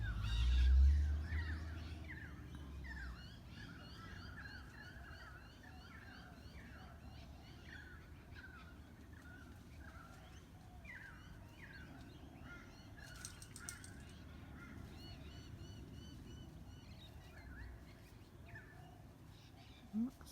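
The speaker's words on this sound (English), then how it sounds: "those birds are at the side of me" Birds call beside a phone held still outdoors near trees: faint, repeated squawks and chirps in a steady series, with some flapping, under low background hiss and a brief voice at the start.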